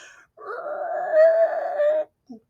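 A voice gives a sustained high, wavering squeal lasting about two seconds, mimicking tires screeching as a car takes a corner too fast, followed by a brief short sound.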